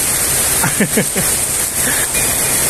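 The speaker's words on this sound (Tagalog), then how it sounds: "Tinodo na yung ulan." Heavy rain in Santo Domingo, near Legazpi: a dense, steady hiss of downpour that fills the whole clip, with a few faint tonal chirps underneath.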